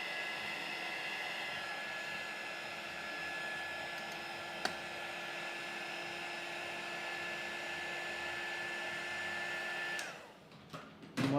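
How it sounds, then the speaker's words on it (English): A small heat gun blows hot air in a steady, even hiss that holds for about ten seconds, with a faint tonal whine and one brief click, before the airflow cuts off and the room goes quiet. "You hear my little heat gun that I have here."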